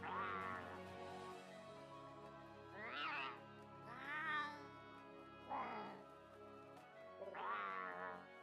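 Palico cat meows in Monster Hunter World, a series of about five clear, close, pitch-bending meows spaced a second or so apart over a low hum of game ambience.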